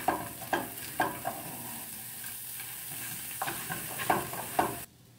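Spatula stirring vegetables into fried rice in a hot pan, with a steady background sizzle and repeated scraping strokes at a regular pace, close and moderately loud, ending abruptly.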